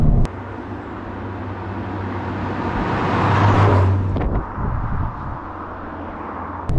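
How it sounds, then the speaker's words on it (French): A Toyota GR Yaris with a turbocharged engine and valved sporty exhaust accelerates on a race circuit, its engine and rising whoosh swelling to a peak midway before dropping off abruptly, with a steady lower drone and faint clicks at either end. "On entend extrêmement bien le souffle du turbo quand ça accélère"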